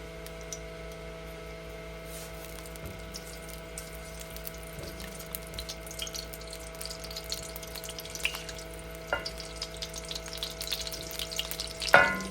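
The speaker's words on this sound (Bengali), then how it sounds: "এই যে এখন দিব আমি এই যে কয়টা দারচিনি, কয় টুকরো, আর দুইটা এলাচি।" A few cinnamon pieces and two cardamom pods fry in ghee in a pan with a faint, soft crackle under a steady background hum, and a brief clatter comes near the end.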